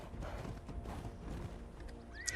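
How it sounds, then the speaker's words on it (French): Horse hooves clip-clop steadily in the ARK survival game on the Valguero map, a low muffled rhythm of repeated footfalls under game ambience, ending with a faint high whinny-like tone. "on a tamé un nouveau cheval"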